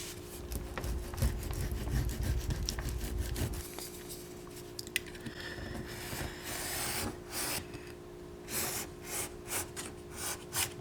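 Knife slicing and rubbing through leather while making a moustache wax case, a steady close scraping texture at first, then sparser short strokes and rustles later, no talking.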